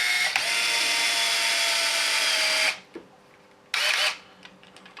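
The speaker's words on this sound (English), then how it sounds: "this is where the drill definitely comes in handy" A power drill runs in a loud, steady whir for nearly three seconds, stops, then gives one short second burst while fitting small bushings during a Wraith kit build.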